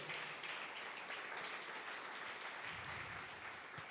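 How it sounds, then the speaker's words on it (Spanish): A church congregation claps for the Lord during a Spanish-language service, a continuous even wash of applause that sounds faint and distant throughout, with no speech over it. "Le damos un fuerte aplauso al Señor."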